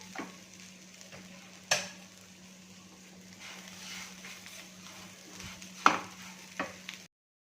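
Bharangi wild greens fry crisp on a tava with a soft, steady sizzle, broken by a few sharp stirring scrapes of a spatula against the pan.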